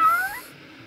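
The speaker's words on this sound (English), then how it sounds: "Oh, look at that cute kitty cat up there." An orange cat gives a single short meow, a rising then falling whine heard fairly close, followed by quiet background.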